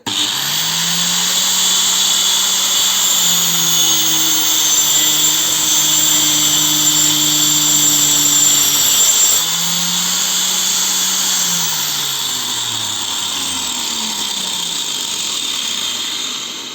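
A new angle grinder mounted on a stand runs at speed with a steady, close, high-pitched whine, its motor tone shifting slightly a few times before easing off toward the end, with no talk.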